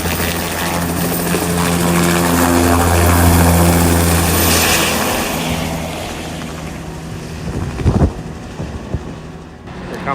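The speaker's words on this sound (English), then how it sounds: "Here's a video of our chopper taking a crew out." A helicopter lifts a rafting crew out of the Grand Canyon with a loud, continuous rotor and engine drone, close by and buffeted by wind, with a few heavier thumps near the end.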